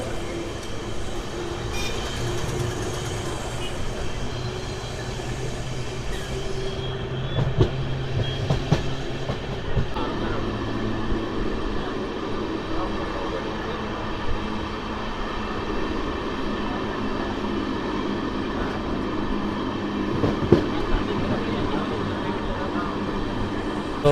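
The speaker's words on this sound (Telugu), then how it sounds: "సో మన ట్రైన్ వచ్చేసి పుత్తూరుకి అయితే రీచ్ అయింది." Sapthagiri Express with new LHB coaches rolling into Puttur railway station: a steady loud rumble of the train with scattered clanks and clicks, plus a faint low hum throughout.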